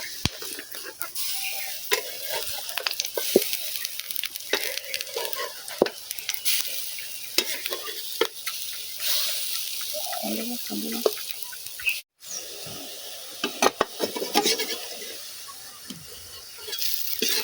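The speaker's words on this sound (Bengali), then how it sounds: "এবারে আমি ডালের বড়িগুলো একে একে উল্টে দেবো।" Lentil dumplings (bori) frying in oil in a home Bengali kitchen, a steady sizzle broken by scrapes and clinks as they are flipped one by one, with water-like bursts in between.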